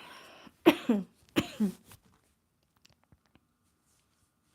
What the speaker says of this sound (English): I just can't keep coughing in your ear